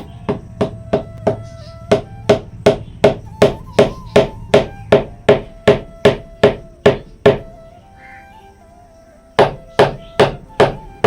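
A nail being hammered into a wall: loud, evenly spaced hammer strikes land in a long series of about twenty blows, a short pause, then several more.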